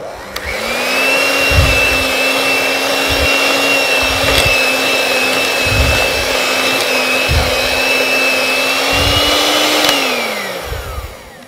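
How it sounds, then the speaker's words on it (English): Electric whisk beating egg and a spoonful of flour into Victoria sandwich cake batter, a steady close motor whine running for about ten seconds over soft rhythmic knocks of the beaters against the bowl, then winding down. "along with that egg I'm going to add a spoonful of flour. Adding the flour will help stop the mixture from curdling, and I'm going to whisk that in"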